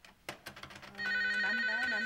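A telephone rings in a Korean office scene with a sustained electronic bell tone for about a second, preceded by clicks and short knocks, fairly quiet.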